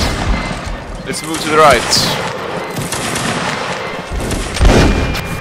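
Musket volley fire in the Napoleonic Wars mod of Mount&Blade Warband, with several sharp shots and bursts spread through the battle, under ongoing speech and a clamor of background noise.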